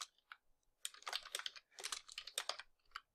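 Rapid bursts of close, crisp clicking as C# code is typed on a computer keyboard, with short pauses between flurries of keystrokes.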